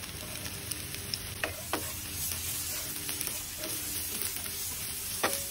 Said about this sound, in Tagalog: paggisa ang ating bawang